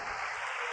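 A church congregation breaks into applause during a Wednesday sermon, a brief steady wash of clapping filling the room.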